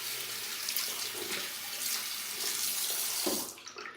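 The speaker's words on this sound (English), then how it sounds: "go ahead and rinse out the container" Tap water runs steadily into a plastic shampoo container as it is rinsed out, a close, continuous splashing that cuts off near the end.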